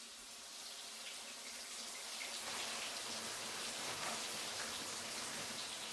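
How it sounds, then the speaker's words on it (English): A running shower gives a steady, soft hiss of falling water, faint and continuous and growing slightly fuller partway through, with no voices. "I'm taking a shower."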